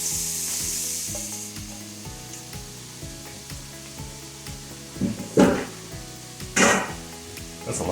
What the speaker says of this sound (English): We're gonna start, careful of splatter, with our butternut squash. Add that to the pan.